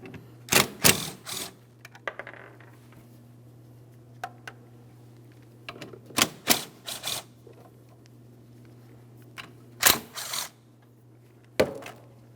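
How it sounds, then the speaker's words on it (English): Removing the 12mm mounting bolts from the exhaust shield on a 2003-2008 Toyota Matrix 1.8L four-cylinder: scattered clusters of sharp metallic clicks and ratchet rattles in short bursts, separated by quiet gaps over a steady low hum. "we're going to remove all 3 of our 12mm mounting bolts so we can remove the shield"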